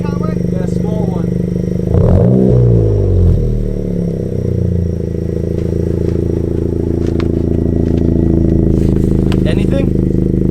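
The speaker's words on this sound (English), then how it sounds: "Give it a rev in sport mode." A Honda Civic Si fitted with a race exhaust revs in sport mode: a loud, rising and falling engine sweep around two seconds in, followed by a sustained droning idle, with people talking over it.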